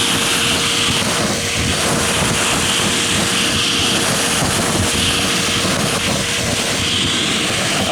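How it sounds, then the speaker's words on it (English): A shop vac sucks up old attic insulation with a loud, steady roaring rush of air that stays continuous throughout. "I just suck it up with the shop vac"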